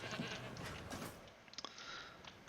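A goat bleating in a dinosaur park-building video game, a short, fairly quiet cry rising out of a busy ambient background with no talk over it.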